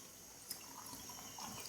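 A few spoonfuls of water poured into a pan of chicken gravy for Mughlai chicken, a brief quiet trickle and splash heard close by, faint and alone.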